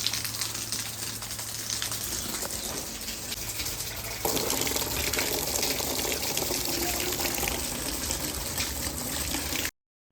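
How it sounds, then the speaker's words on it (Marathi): Water overflowing from a filled household water tank pours and splashes steadily at close range, a continuous loud gush that grows heavier partway through, with no talking. "टाकी भरली आता, हे पाणी पडतंय टाकीतलं."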